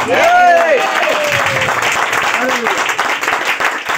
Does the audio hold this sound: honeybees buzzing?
no